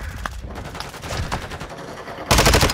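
Gunfire in the video game Call of Duty Modern Warfare II, several sharp shots and bursts across a noisy battle scene, ending in a loud sustained volley near the close.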